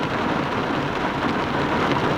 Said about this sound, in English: it's raining, which makes for no fun